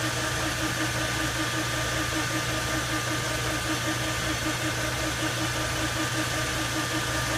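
A lathe or grinder runs steadily while a 7-degree chamfer is machined on the end of a roll pin punch, giving a continuous, dense mechanical hum and whir with no pauses.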